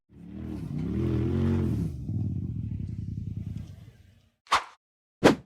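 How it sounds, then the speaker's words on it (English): A white-frame off-road buggy's engine revs hard and climbs in pitch as it charges up a steep rock face, loud and sustained for about four seconds. The engine drops out and two sharp, heavy impacts follow. "The white frame buggy hit the throttle hard and tried to charge up the steep rock face"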